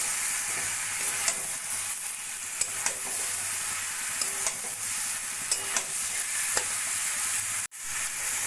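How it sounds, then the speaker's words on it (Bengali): Fried cauliflower florets are stirred with spices in a pan for a Bengali kosa curry: a continuous loud sizzle, punctuated by regular scraping strokes of a spatula, with no voices. "ফুলকপিগুলো ভালো করে মশলার সঙ্গে মিশিয়ে নিয়ে আমি 2-3 মিনিট মতো কষিয়ে নেব।"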